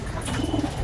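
King breed pigeons coo inside a loft, a short, low, throaty burble repeating a few times close by, with no talk.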